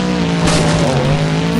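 The Boogie Van monster truck drives at a monster truck show, its engine roaring loud and close with a strong, sustained throaty tone that rises slightly as it revs.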